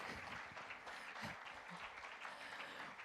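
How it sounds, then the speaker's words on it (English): Warm applause from an audience welcoming guests at a World Hearing Day Q&A event on deaf awareness, a steady, fairly quiet wash of clapping with no voices over it. "Massive round of applause."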